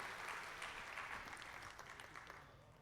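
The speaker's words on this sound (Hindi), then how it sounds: "एक बार थोड़े लोग तालियां बजा दीजिए" Audience at a poetry recital breaks into applause, a steady wash of many hands clapping that holds fairly even and then gradually tapers off, heard from a distance and somewhat faint.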